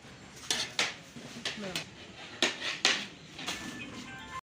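Khoya rice is mixed in a pot, with a series of distinct metal spoon scrapes and clinks against the pot in an uneven rhythm, moderately close.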